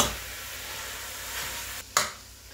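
Italian sausage and ground beef fry in a pan with a steady, close hiss and sizzle, broken by a brief dip and a sharp scrape or stir near the end, with no talk.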